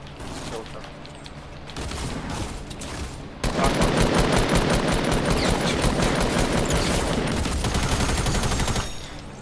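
Rapid automatic gunfire in Fortnite, at first moderate, then a loud sustained stream of shots lasting several seconds before it cuts off.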